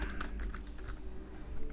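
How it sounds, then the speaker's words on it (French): Keys on a computer keyboard are pressed for the CTRL-J shortcut while retouching a photo, a quick run of soft, close clicks over a faint steady room hum. "Dupliquer l'image avec un CTRL-J, raccourci clavier."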